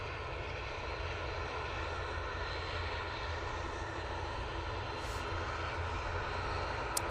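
Steady broadband roar of an airliner's engines during departure at Manchester Airport, heard continuously at a distance and holding even, with no voices over it.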